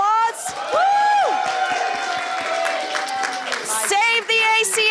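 Rally crowd cheers and whoops after a call for applause at a Save the ACA protest, loud voices rising and holding for several seconds, with a shouted woo and scattered clapping mixed in.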